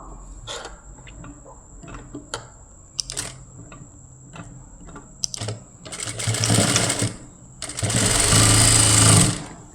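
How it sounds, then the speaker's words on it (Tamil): Sewing machine stitching the neckline of a lined blouse with a quarter-inch double seam: several short mechanical bursts and clicks, then two longer continuous runs of rapid stitching with a steady high whine, close up and without voices. "நம்ம கால் இன்ச்சில் தையல் போட்டு ரெண்டு தையல் போட்டுடுவோம்"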